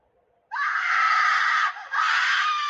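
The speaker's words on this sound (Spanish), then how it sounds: "Ese grito no es de Tinky Winky." A loud, sustained scream from a horror-themed Mario Bros video game, holding steady for over a second, dipping briefly, then resuming with no talk over it.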